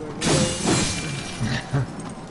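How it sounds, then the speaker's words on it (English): Glass windows shatter in the video game Darksiders, loud crashing bursts with crunching debris repeating several times in quick succession over a busy game soundscape. "I just smash all of the windows with my face"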